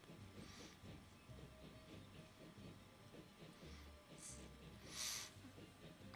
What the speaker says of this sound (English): That's another freight train.